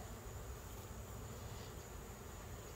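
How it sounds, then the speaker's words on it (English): Honeybees fanning at an open-air colony built in a tree, a dense steady buzzing drone close by that holds at an even level throughout. "Look right down here and see those bees fanning?"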